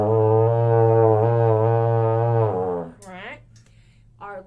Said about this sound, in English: if you're playing an F and it sounds like this